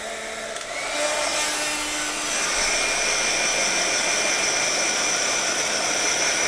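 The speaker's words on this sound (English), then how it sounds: "you can take your heat gun again" A heat gun blows hot air in a steady, loud, close whoosh that swells after a brief start and then holds constant, with no voices.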